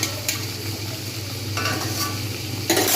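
Tomatoes being stirred into a pan of frying eggplant mash with browned onions, a steady close sizzle broken by a few louder scraping stirs, with no talking.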